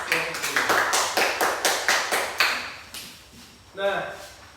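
A small group applauds a classroom discussion group with quick, evenly spaced claps that slow and thin out, ending in one last burst; a voice briefly talks over it.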